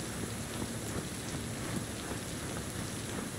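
Steady rain falls in the video game Cyberpunk 2077, a dense, even hiss of drops on surfaces that continues without pause and with no voices.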